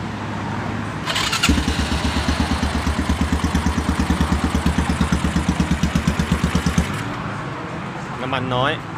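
A Stallions Iron One motorcycle, a stock bike with light modifications, cranks and fires up, then settles into a steady, loud, pulsing idle close by for several seconds before cutting off, followed by a brief rising whine.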